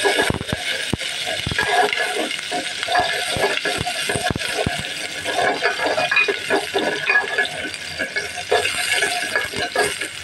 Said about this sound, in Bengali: তেল দিয়ে আমি পেঁয়াজটাকে একটু লাল করে নেব।